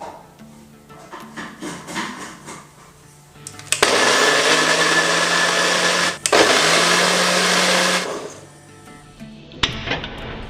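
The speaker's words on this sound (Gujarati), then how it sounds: "એમાંથી 3 ટમેટાની આપણે મિક્સરમાં પ્યુરી બનાવવાની છે" A kitchen mixer grinder purées three cooled tomatoes in a mixie jar, its motor roaring loud and steady for a few seconds, cutting briefly, then whirring again before stopping, with quiet handling sounds before and after.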